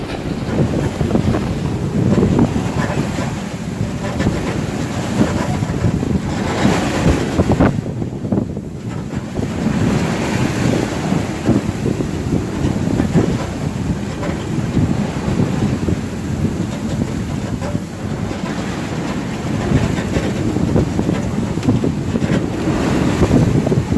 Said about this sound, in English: the wind has come down a bit, down to 22 knots